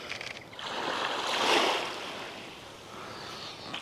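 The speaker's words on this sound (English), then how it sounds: "Wait for the next little wave to come in" Small ocean waves roll in and wash up the shore at golden-hour sunset, a broad soft hiss that swells to a peak midway and then eases back, steady and fairly close, with no voices.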